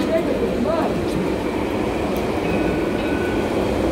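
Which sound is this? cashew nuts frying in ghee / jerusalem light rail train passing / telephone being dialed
jerusalem light rail train passing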